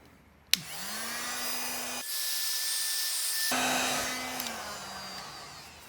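Heat gun shrinking heat shrink tubing over a soldered wiring connection on a Triumph Daytona motorcycle: a sharp click, then a steady close blowing whine whose pitch shifts midway, running alone.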